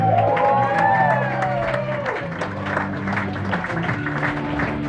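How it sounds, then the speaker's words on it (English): A comedy club audience applauds and cheers a comedian at a live show. The clapping is loud and dense, with whoops and voices mixed in throughout. "Big round of applause for Benji Himmelfarb, everyone."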